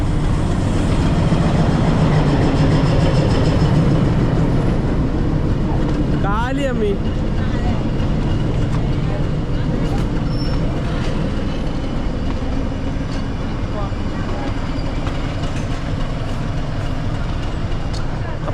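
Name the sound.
train arriving at Ketti railway station, Ooty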